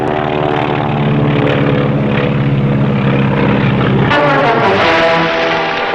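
A propeller plane, hit while peeling off and ditching at sea, makes a loud, steady engine drone that continues throughout, with a shift in pitch and texture near the end.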